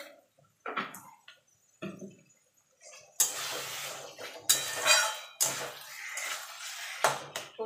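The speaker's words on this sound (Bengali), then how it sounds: "এবার ভালো করে নাড়াচাড়া করে মিনিট দিয়ে এটাকে রান্না করে নেবো" Taro leaves cook in a pan while being stirred: scraping and clattering utensil strokes, sparse at first, then a busier run of loud scrapes and knocks.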